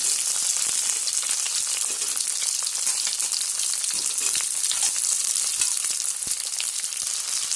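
Chopped onion and capsicum frying in hot oil with ginger and garlic for chilli chicken, a steady dense sizzle with crackling pops throughout, close and fairly loud, no voices.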